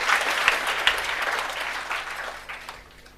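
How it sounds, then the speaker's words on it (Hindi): Students in a classroom clap together, a loud burst of dense applause that gradually thins and fades toward the end. "ताली बजाओ ताली बजाओ ताली बजाओ।"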